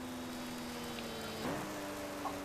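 Soft steady hiss of rain in the F1 Challenge racing game at a 1952 Swiss Grand Prix, a continuous wash of drops with a faint engine hum underneath and a brief swelling whoosh midway, no voices.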